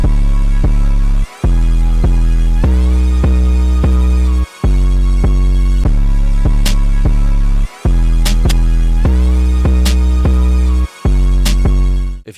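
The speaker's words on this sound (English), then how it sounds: "808 like this, like super hard distorted" Hard, heavily distorted 808 bass drum hits thump in a synth beat, long booming sustained notes repeating in a steady pattern with short gaps, loud and close, with bright synth stabs and hi-hat-like ticks layered on top.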